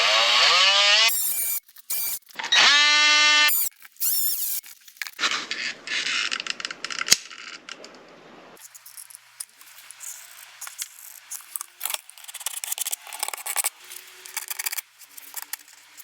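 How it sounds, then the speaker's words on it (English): A small oscillating multi-tool cuts the heads off plastic mushroom fasteners during an RV step installation, with loud buzzing bursts followed by quieter scraping and clicking handling noises, close up. "I'm going to come with my little oscillating tool and just kind of nip off the head of that mushroom"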